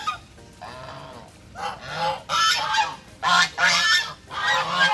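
Breeder geese honk in a backyard, several loud, close, repeated honks in uneven bursts with short pauses between them.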